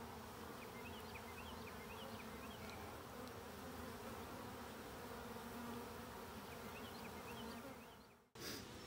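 Honeybees buzzing around an open Layens hive, a dense, steady swarm drone that stays close and even throughout, with individual bees whizzing past now and then and a brief dropout near the end.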